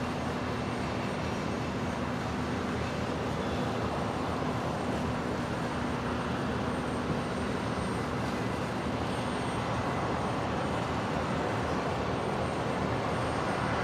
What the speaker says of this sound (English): The Qantas Dash 8 coming in from Port Macquarie.